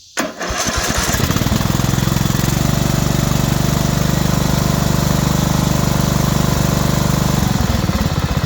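A lawn mower engine with a no-spark-when-hot fault pulls over and catches, then runs at a steady, loud, throaty idle close by for several seconds before dropping away at the end.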